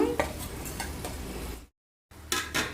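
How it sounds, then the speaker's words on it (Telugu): Garelu, lentil fritters, frying in hot oil give a steady sizzle with light clinks of a utensil, broken by a brief silent gap before the crackle and scraping return. "గారెలు వేగుతున్నాయండి"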